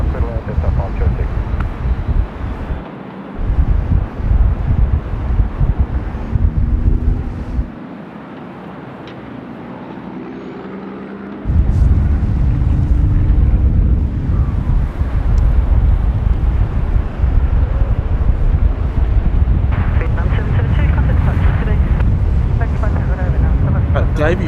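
A Delta airliner landing on runway 25 at Sydney Airport in strong wind, a loud roar of engines and wind buffeting the microphone that swells near the end, with voices talking throughout.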